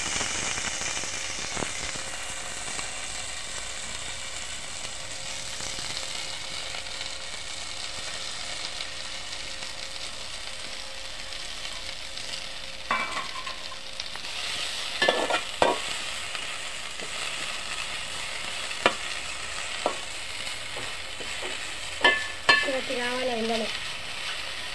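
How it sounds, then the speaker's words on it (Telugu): Mint leaves fry in oil while being stirred, a constant soft sizzle broken by sharp scraping knocks of the spoon against the pan, growing busier in the second half. "పుదీనా వేపుకోవాలి"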